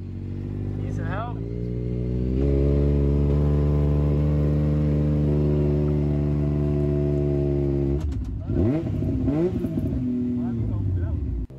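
A four-wheeler ATV's engine drones loud and close, revving up to a sustained high-pitched roar as it pushes through a mud hole at a Tennessee riding resort, then dropping and blipping through uneven throttle bursts, with voices over it.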